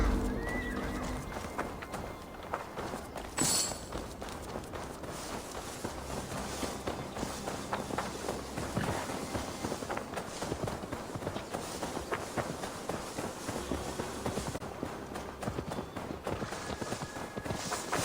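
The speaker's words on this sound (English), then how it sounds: "Now to deliver Magni's horse." Hooves clip-clop steadily while a horse neighs and whinnies in Assassin's Creed Valhalla, a continuous moderate-level mix of galloping and walking footfalls with no talk over it.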